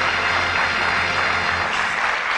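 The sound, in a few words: studio audience applause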